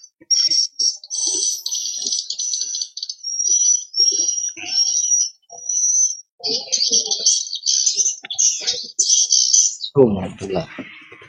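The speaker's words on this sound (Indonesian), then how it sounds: "Kenapa ada suara burung sih?" Birds chirp in rapid high twittering bursts through an online meeting, nearly continuous bright trills over about ten seconds, with voices talking faintly underneath and a brief louder sound at the end.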